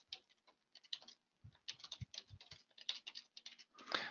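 Quiet, close typing on a computer keyboard, with rapid irregular bursts of light key clicks and a few deeper thumps from heavier keystrokes, and no voice.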